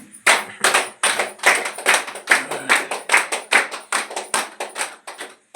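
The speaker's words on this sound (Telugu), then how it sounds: "ధ్యాన అనుభవానికి గట్టిగా క్లాప్ చేద్దాం అందరం." An audience claps loudly in steady unison after a shared meditation experience, a close, rhythmic series of sharp hand claps that stops near the end.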